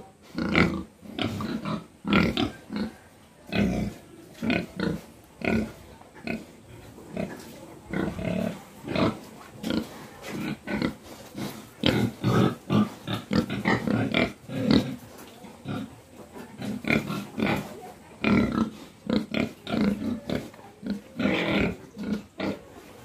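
Pigs in a farm pen grunt and squeal in steady bursts for over twenty seconds, close and fairly loud, with no talking.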